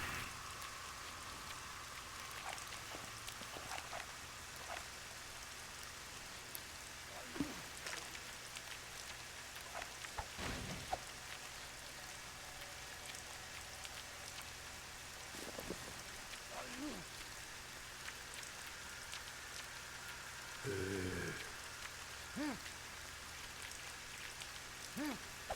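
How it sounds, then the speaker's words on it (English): Steady rain falls in the survival video game One Shot Escape, a continuous even hiss of drops throughout, with occasional soft thuds and brief clicks layered over the constant patter. "Of course, I light the fire, and then it starts raining."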